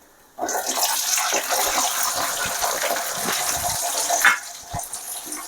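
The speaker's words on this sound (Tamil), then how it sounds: "அடுத்து நம்ம வெங்காயத்தை போட போகிறோம்" Onions go into a hot pan for Chettinad brinjal mandi, starting a sudden loud, steady sizzle that hisses continuously with small crackles throughout.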